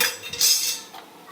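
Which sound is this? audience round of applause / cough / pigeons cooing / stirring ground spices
stirring ground spices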